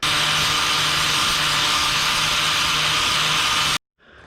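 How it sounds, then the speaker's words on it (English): Steady, loud angle-grinder whine as steel plates are ground flat, a continuous close hiss lasting nearly four seconds before cutting off abruptly. "Let's grind a little bit off of here just to make that flat."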